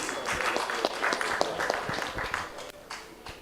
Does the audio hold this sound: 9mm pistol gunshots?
no